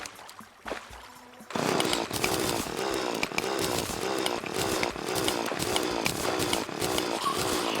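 Terraria's drill runs loudly throughout as a continuous buzzing, rasping whine with a steady rhythmic pulse, preceded by a second or so of quieter clicks and thuds before it starts up.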